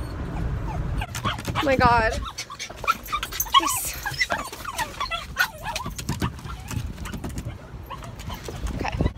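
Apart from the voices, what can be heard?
dogs whimpering and crying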